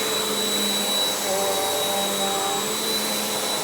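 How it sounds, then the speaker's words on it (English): A Bissell Powerforce Compact 2112 upright vacuum cleaner runs steadily and loudly close by, a constant motor whine with a high pitched tone and slight shifts in pitch as it moves, with no talking. "we're gonna vacuum with this Bissell Powerforce Compact"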